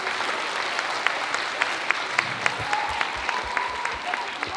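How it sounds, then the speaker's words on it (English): At a primary school award assembly, an audience claps for the performers, a steady crowd applause with distinct individual claps standing out in a loose rhythm, fairly close and continuous. "Can we have another huge round of applause for all our performers?"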